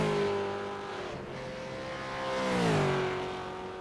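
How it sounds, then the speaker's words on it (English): Supercars-class race cars doing celebratory burnouts at Long Beach in the iRacing sim: one loud, sustained engine note that dips and then swells again as the revs climb, with no voices. "celebratory burnouts going on"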